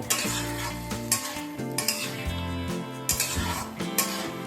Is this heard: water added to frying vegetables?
yes